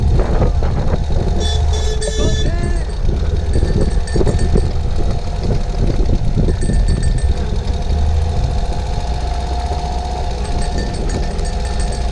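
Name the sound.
Ural motorcycle engine idling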